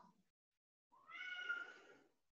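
A single cat meows once, a drawn-out nasal call that rises and holds before trailing off, faint and fairly close, heard indoors during a yoga session.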